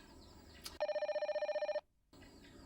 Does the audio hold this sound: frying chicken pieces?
no